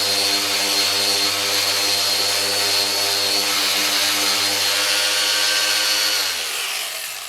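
Sandpaper works over the bodywork of a Honda fuel tank being prepared for primer, a loud, steady abrasive hiss with a droning motor hum that winds down near the end, no speech.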